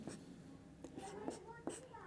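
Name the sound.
writing on a board or paper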